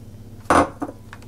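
Butter and sugar being creamed for red velvet cupcakes, a utensil knocking sharply against the mixing bowl in one loud clink followed by two fainter taps, close and isolated.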